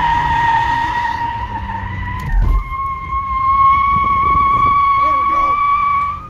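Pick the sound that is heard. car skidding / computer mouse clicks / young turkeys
car skidding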